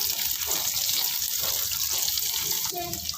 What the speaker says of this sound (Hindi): अब इसमें डालेंगे थोड़ा सा पानी।